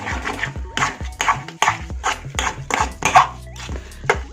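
Broken wheat halwa with jaggery is stirred in a pan over a slow flame, and a spoon clinks and scrapes against the metal in repeated, fairly close strokes with no talk.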